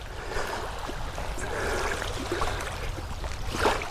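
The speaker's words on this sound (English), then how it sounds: "See if we can hear the waves lapping." Small waves gently lapping against the Lake Ontario shore at a bay, a soft continuous wash of water with faint swells, heard close and alone.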